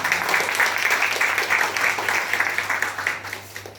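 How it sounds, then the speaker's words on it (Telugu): An audience claps together during a Telugu church sermon, a steady, dense patter of hands that holds for several seconds over a low electrical hum, then begins to thin toward the end. "ఒకసారి చప్పట్లు కొట్టాలనిపించట్లేదా?"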